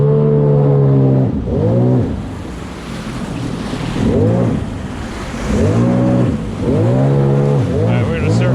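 A Sea-Doo Spark Trixx jet ski engine drones loud and close, repeatedly swelling and easing as the throttle changes, over steady wind and splashing water.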